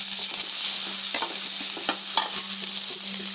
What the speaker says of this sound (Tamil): வெங்காயம் வதங்கிகிட்டே இருக்குது.